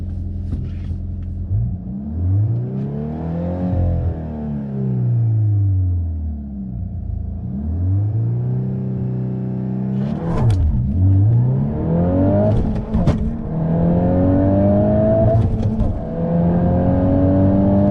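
A manual sports car launches hard from a standstill with an aggressive clutch dump during a 0-60 acceleration run. The loud engine howls upward in pitch, then drops sharply at each of several quick upshifts before climbing again.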